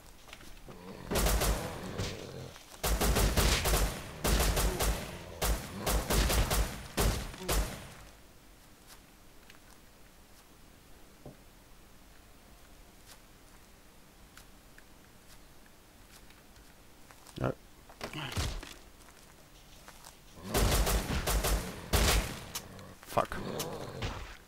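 Bursts of rapid gunfire in the survival game Rust, loud clustered volleys at the start and again near the end, separated by a long quiet stretch with only faint isolated shots.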